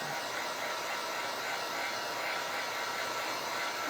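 Hair dryer blowing on a painted Christmas ornament, a constant close airy roar with no breaks or talk.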